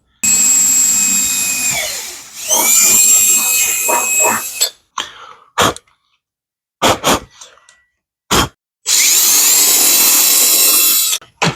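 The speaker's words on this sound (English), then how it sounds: "Pretty much I'm just letting the drill run, and I'm using the pressure from the grill into the bit." A power drill bores through the backing of a Ford Ranger Raptor grille. It runs in long, loud, steady whining bursts, broken by short gaps, brief clicks and knocks, and a final sustained run.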